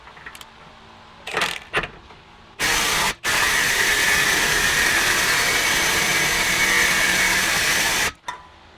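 Power impact gun with a hot socket removing a rear axle from a Nissan 350z: a few short bursts, then a long, loud, steady mechanical roar of about five seconds that stops abruptly, close by.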